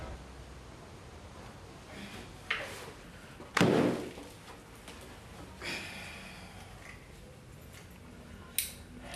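Indoor demolition as a place is ripped apart: scattered bangs, thuds and scraping heard through a wall or from another room, with one heavy crash standing out amid a steady noisy background.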